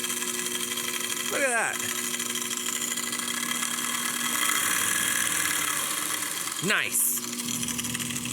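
A 2x42 belt sander used for knife sharpening runs with a steady loud whirring hum, and two rising whine sweeps mark it spinning up or winding down, while a person briefly speaks over it.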